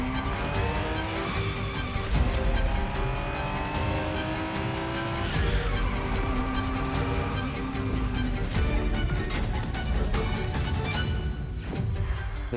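A Ferrari Testarossa in the racing game The Crew Motorfest roars along with a continuous revving engine, shifting pitch through gear changes, and tires squealing in skids, loud and close throughout.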